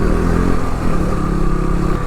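A motorbike engine runs loud and close during a ride, a steady mid-pitched drone with rattling clatter and no voices over it.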